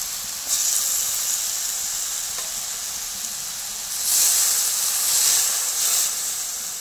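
Turmeric powder and ground cashew paste sizzling in a hot pan, a steady close frying hiss with a couple of brief louder surges as the paste hits the oil.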